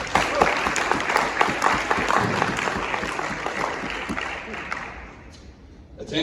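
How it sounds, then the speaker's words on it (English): Audience applause at a company division meeting wrap-up, steady dense clapping from a crowd that fades out near the end, with some voices mixed in. "So a round of applause for the division."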